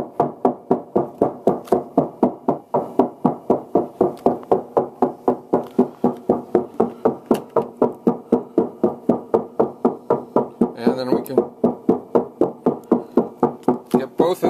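A 259 synthesizer oscillator modulated by control voltage from a mod oscillator produces a steady, fast, regular pulsing tone of repeated sharp percussive blips, loud and continuous, with a brief brighter flutter near the end.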